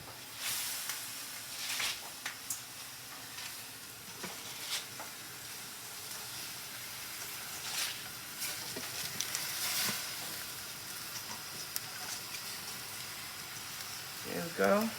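Cabbage and peppers sizzle and hiss in a frying pan as more cabbage is added, with steady crackling broken by scattered stirring clatters and a brief louder rustle near the end.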